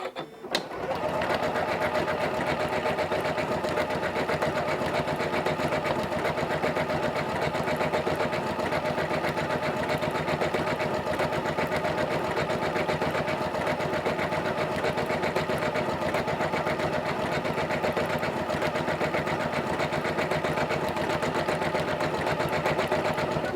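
A Janome CM17 sewing machine runs steadily for about twenty seconds while stitching decorative quilt stitch number 3, a continuous close mechanical whir with a fast needle rhythm and no talking.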